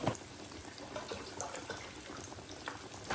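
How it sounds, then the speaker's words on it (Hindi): Water being poured from a tap or jug for tea in a home kitchen gives a steady, close rushing splash with no voices. "टाइम की बचत करनी है, इसलिए जब तक कटलेट्स पकते हैं तब तक हम लोग चाय के लिए पानी रख देते हैं।"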